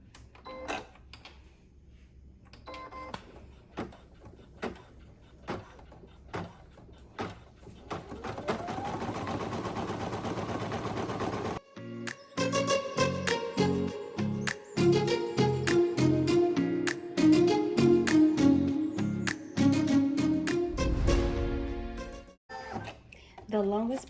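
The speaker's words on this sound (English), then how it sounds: "go back to your machine real quick. It's going to do a satin stitch around" A single-needle embroidery machine sews a satin stitch around an appliqué on an in-the-hoop badge holder, giving rapid rhythmic needle clatter in bursts and then a long steady run, with a voice heard before the stitching.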